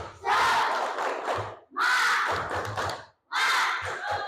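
Indonesian schoolchildren doing a spirit clap for their teacher; three loud bursts of group chanting and shouting with short sharp clap thuds, each burst separated by a brief pause.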